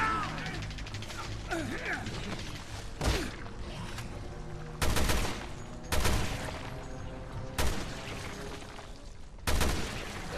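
Assault rifle fire in a video game comes as five short, sharp bursts spaced a second or two apart, standing out over a steady mechanical game soundscape, with no talking.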